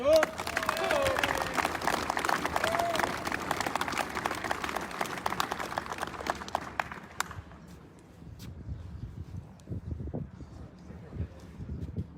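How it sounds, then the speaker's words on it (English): A crowd at a 4th Infantry Division awards presentation claps and cheers in dense applause for several seconds before it fades away, leaving scattered claps and low murmuring. "Let's give FSC a round of applause."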